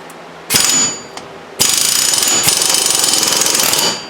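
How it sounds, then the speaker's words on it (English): A hammer strikes a rusted wheel hub hard: a short burst then a longer run of rapid ringing metal blows, loud and close, with a sharp clang partway through. "Let's see if I can whack it off now with a hammer."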